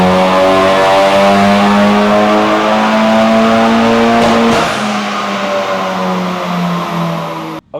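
A Honda Civic Type R FK8 on stock ECU revving hard during a road test, a loud, sustained engine note climbing steadily in pitch before a shift and a brief drop, then holding strong again.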